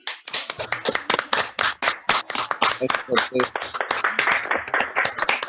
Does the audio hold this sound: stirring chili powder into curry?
no